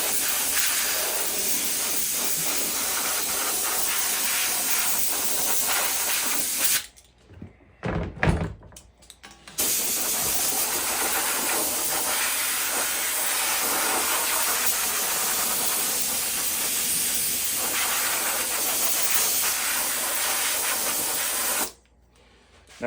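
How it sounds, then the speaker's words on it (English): Compressed air at about 60 PSI blasts onto a flocked Canada goose decoy head in a loud, steady hiss, broken by short pauses and a second long burst, with a brief clunk in between. "this will use compressed air to just kind of drive that flocking down into that paint."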